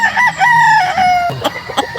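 A sweater line gamefowl rooster on a farm in Balele, Tanauan, Batangas crows once loudly and close, a drawn-out call followed by a few softer clucks.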